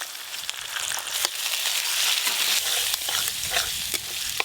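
Spices sizzling in a pan for a village-style potato curry as water is added, a steady loud frying hiss with scattered scraping stir strokes throughout.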